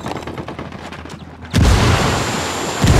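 In the Ghost Recon Wildlands video game, rapid gunfire-like pops lead into a frag grenade blast that destroys a cocaine stash. The explosion is a sudden loud, heavy boom with a rumbling tail, and a second surge comes near the end.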